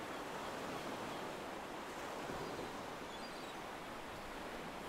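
Sea waves wash against a hard, dark volcanic rock coastline in a steady, faint hiss of surf with a little wind, continuous and distant, with no voices.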